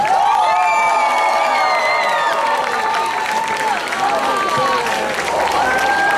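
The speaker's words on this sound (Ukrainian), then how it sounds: "Оплески! Оплески!" A festival gala concert crowd in Mariupol cheers and claps loudly, with whoops and shouts ringing over continuous applause.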